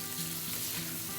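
Pork ribs sizzle steadily in a hot wok while being turned with a spatula, a continuous close, dense crackle of frying for a Hong Kong-style black bean pork rib stir-fry, with no talk.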